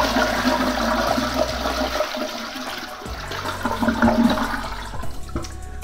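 A toilet fitted with a TUSHY Classic bidet attachment flushes loudly up close, water rushing and gurgling down the bowl before trailing into a softer trickle as the tank drains.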